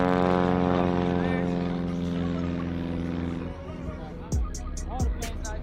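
An aircraft engine drones steadily at the Oshkosh airshow, a strong harmonic hum that slowly fades, with wind buffeting and a few sharp thumps near the end.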